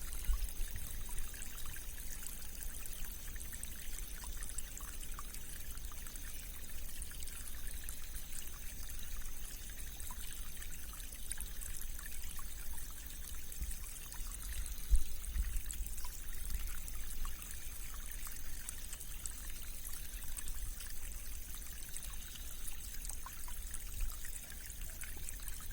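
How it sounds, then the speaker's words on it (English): Stream water swirling and flowing in the rain, a steady continuous hiss and trickle of running water with no pauses or voices, even in loudness from start to finish. "this mass of water that is absolutely joyously swirling and flowing all around us"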